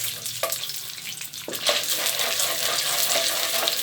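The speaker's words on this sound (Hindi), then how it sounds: "एक कढ़ाई में घी हमारा अच्छे से गर्म हो गया है और अब हम इसमें डालेंगे कॉर्न।" Corn kernels are tipped into hot ghee in a kadai, the sizzle swelling suddenly after a couple of sharp clatters and then running loud and steady up close.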